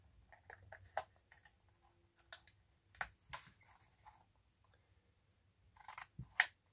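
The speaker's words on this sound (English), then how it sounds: "I'm going to cut a V out of there" Several quiet snips and sharp clicks as scissors cut a V shape into folded, creased cardboard packaging, close up, in short irregular bursts separated by soft rustling and near silence, with no talking.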